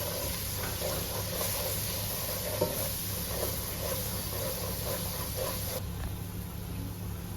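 Masala spices with turmeric and chilli powder frying in a pan over low gas for egg biryani, a steady soft sizzling hiss that runs unbroken at low level with faint scraping ticks and no talk.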